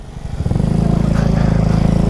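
A motorcycle engine runs loud and close, quickly building up at the start and then holding a steady, throbbing drone with no talking.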